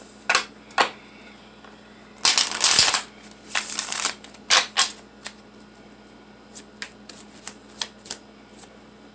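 Tarot cards are shuffled in several quick riffling bursts, the loudest early on, followed by lighter irregular taps and flicks of cards being handled close by.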